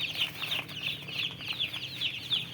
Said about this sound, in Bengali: মোট 100 পিস দেশি মুরগির বাচ্চা নিয়ে আসা হয়েছে